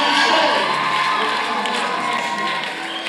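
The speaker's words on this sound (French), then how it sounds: "Applaudissez, mes frères et sœurs." Church congregation at a wedding blessing breaking into loud, sustained cheering and applause, a dense crowd roar with high excited voices that holds steady for about three seconds and eases slightly at the end.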